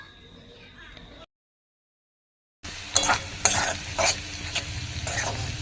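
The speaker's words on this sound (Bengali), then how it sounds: "এই যে এখানে আমি সবজিটা ভাজছি" Vegetables fry in a pan with a crisp sizzle and loud rhythmic stirring scrapes from a utensil, following a brief quiet gap at the start.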